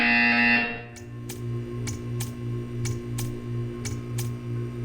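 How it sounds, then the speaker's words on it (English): Buzzer tone from the video game Portal 2, a loud harsh buzz in the first second, then a steady low hum with a row of evenly spaced sharp ticks. "You will hear a buzzer."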